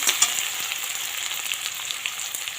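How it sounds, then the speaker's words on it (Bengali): Chopped onion fries in hot oil in a pan, making a bright, steady sizzling hiss that carries close and evenly throughout, with faint crackles. "এটা ভালো করে পেঁয়াজটা ভেজে নেব।"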